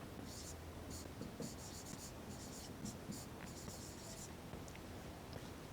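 Marker or chalk writing on a board during a maths lesson on perimeter, a run of short scratchy strokes in bursts, heard close under a continuous low background hum.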